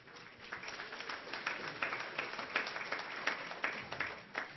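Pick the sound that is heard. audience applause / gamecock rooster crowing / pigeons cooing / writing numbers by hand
audience applause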